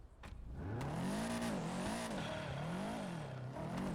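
A Subaru EJ car engine in the FiveM video game: a steady, droning engine note rising and falling in pitch as it revs through gears, continuous and moderately loud with no talk.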